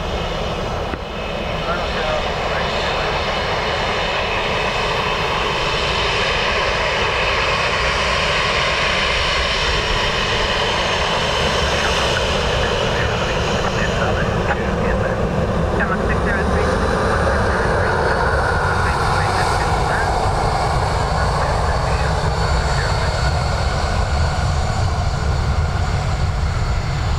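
A KLM airliner taxis at Dublin Airport, giving a steady, continuous jet engine roar throughout, fairly loud and unbroken, with faint radio-style voices underneath.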